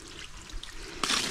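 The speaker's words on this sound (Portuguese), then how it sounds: "pegando aqui um pouquinho d'água, é botando" Water is poured onto a freshly built pond floor at a rural property, a soft trickle and patter that ends in a sudden louder splash and gush.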